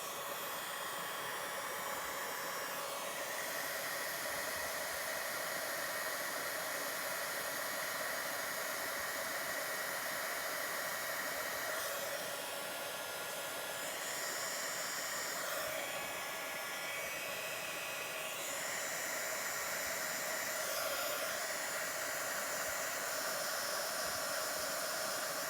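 A handheld heat tool blows steadily on a stamped patriotic card made with a watercolor stripes stencil, a constant loud whooshing hiss that runs unbroken for the whole stretch with slight shifts in tone.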